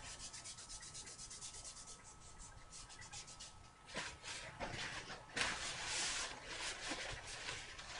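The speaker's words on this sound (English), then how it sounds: "This is still my baby wipe. I am removing at least the top layer." A baby wipe rubs across a wet watercolor art journal page, lifting paint. The soft, close, uneven scrubbing comes in short strokes that build to louder swipes in the second half.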